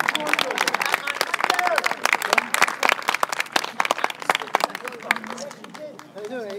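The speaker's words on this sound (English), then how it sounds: "give the man a clap." An outdoor crowd at a Scottish nationalist rally claps for a speaker, with sharp, distinct individual claps that swell and then thin out, mixed with scattered voices and chatter.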